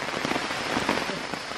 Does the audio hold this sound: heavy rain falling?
yes